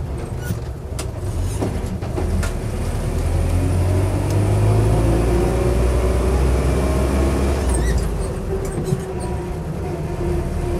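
A fully restored Land Rover Series 2 Lightweight drives along with a steady, low engine drone and road rumble that holds loud throughout, with no voices over it.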